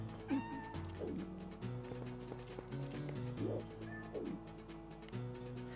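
A cat meows several times in the video game Twilight Princess HD, short rising cries over light game music and clip-clop sounds.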